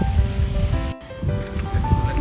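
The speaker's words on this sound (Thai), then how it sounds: "ลำธารเป็นแบบนี้นะคะ" A stream flowing at a resort in Nakhon Nayok, Thailand: steady, close broadband rushing of water with a brief dropout near the middle.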